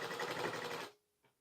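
A sewing machine runs steadily while stitching blouse piping, a continuous rapid whir that cuts off abruptly, followed by a short faint click.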